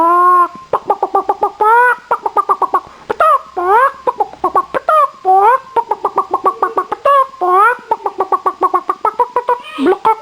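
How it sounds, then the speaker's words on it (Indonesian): A hen clucks loudly and close, in rapid repeated bursts of short clucks broken by a few longer rising calls, with no other sounds around it. "Ayam betina. Suara ayam betina."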